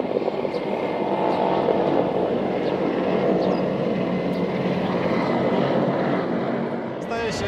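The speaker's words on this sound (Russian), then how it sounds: "вертолет, используя складки местности, сейчас вот поднимается из-за деревьев" A Mi-35P military attack helicopter rising over a forest, its steady, loud rotor and engine roar filling the air throughout, holding constant without pause.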